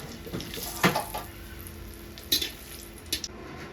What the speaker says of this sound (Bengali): সবজিগুলো ভাজা হয়ে গেছে আমি দিয়ে দিচ্ছি ফোড়নে শুকনো লঙ্কা